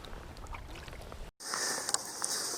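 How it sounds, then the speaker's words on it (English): A kayak paddler strokes across a lake, with soft water swishes and drips close by, a brief cut to silence, and then a brighter, hissier stretch of splashing and trickling, with no voices. "So I'm just going to paddle down the lake ways"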